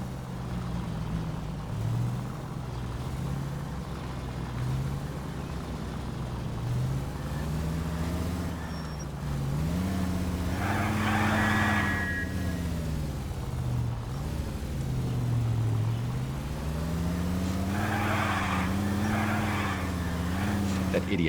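A car driven recklessly in the video game L.A. Noire, its engine droning steadily and swelling and dipping as it revs, loud and close throughout, with voices talking over it.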